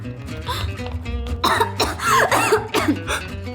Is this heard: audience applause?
no